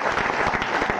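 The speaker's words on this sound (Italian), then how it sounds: "L'applauso lo aggiungerei per Cristiana." Dense applause for a guest at a dinner-table gathering of voice actors, a steady wash of many clapping hands, continuous and moderately loud with no break.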